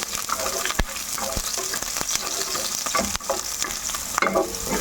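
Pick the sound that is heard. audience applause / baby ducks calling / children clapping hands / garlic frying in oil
garlic frying in oil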